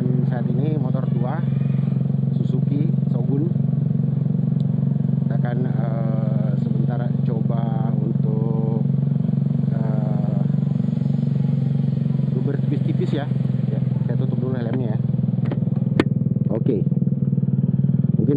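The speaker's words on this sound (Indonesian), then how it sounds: "Saya sekarang tutup helm dan kemudian kita coba tarik gas" An old Suzuki Shogun 125 motorcycle, freshly serviced, runs with a steady, loud engine drone throughout while someone talks over it.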